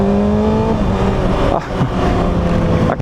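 A 2019 Kawasaki ZX6R motorcycle accelerates hard with a quick shifter, its engine note climbing and then briefly dipping at each shift, loud and close throughout.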